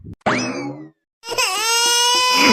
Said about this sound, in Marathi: तुम्ही दोघं जण रडू नका आणि मला परेशान करू नका